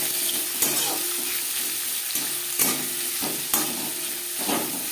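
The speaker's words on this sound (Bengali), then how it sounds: "মাছ ভেজে নেওয়া কড়াইতে আবারও তেল দিয়েছি। দিয়ে দিলাম পেঁয়াজ কুচি।" Chopped onions frying in oil in a wok just used for frying fish, a steady bright sizzle broken by several sharp scraping stirs at roughly regular intervals.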